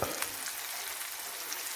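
Fish fries in a pan for a sweet-and-sour dish, a close, steady crackling sizzle with small spits and pops and no voice over it.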